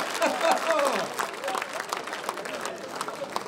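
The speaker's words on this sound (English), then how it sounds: "Give a big round of applause." Applause from a lecture audience at the RBS Doyens Lecture Series, loudest at the start and then thinning into lighter scattered clapping, with some voices and crowd murmur mixed in.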